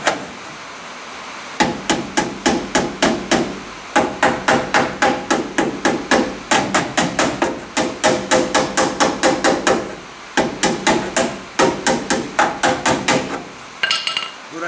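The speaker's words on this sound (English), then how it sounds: "the hammer with those sharp guys on it grabs the metal" A textured hammer with sharp points strikes sheet metal in rapid, evenly spaced bursts of loud ringing blows, pausing briefly between runs, close and with no talking.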